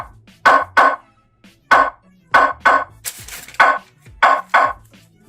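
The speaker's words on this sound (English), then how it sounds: "Three knocks. That does not sound like a knock to me." A Philips 90 dB wireless doorbell, model 498968, plays its three-knocks chime setting: a run of sharp, close, loud knocking thuds in short clusters, with no voices.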